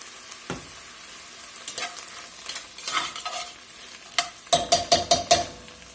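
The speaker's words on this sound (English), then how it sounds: "We're going to let all that cook down there about 5 to 10 minutes. While the vegetables are sweating down" Vegetables and canned mushrooms sizzle in a pot seasoned with seasoned salt, while a spoon stirs and taps against the pot in a series of sharp knocks, the last few coming in a quick regular run.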